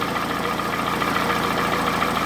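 A Toyota Camry's 2AZ petrol engine runs rough, close and loud, with a steady uneven idle carrying a knocking, irregular roughness throughout and no voices over it.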